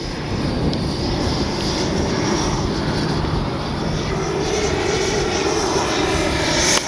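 The small jet engine of an FMS Avanti S 90mm RC jet whines and roars steadily and loudly throughout as it comes in to land, a continuous high-pitched rushing drone overhead.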